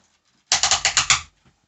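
Ratchet joints on a Titan Class Metroplex toy clicking in a quick, close run of about six sharp plastic clicks, followed by a faint single tick.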